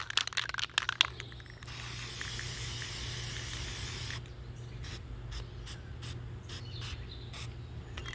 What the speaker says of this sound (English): Now we're going to paint it.